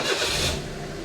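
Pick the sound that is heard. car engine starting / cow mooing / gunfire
car engine starting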